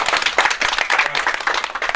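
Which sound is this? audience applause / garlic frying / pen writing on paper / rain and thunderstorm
audience applause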